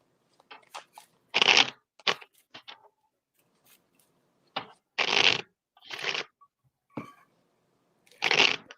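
Playing cards are shuffled in several short riffling bursts, separated by brief pauses and light handling clicks, close up and quiet otherwise.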